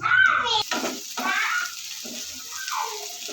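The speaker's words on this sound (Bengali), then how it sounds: "এখানে আমি আদা রসুন বাটা দিয়ে দেবো" Ginger garlic paste frying with masala in oil for a Bengali pangas and tengra fish curry, with an initial splash then bursts of sizzling and stirring that rise and fall.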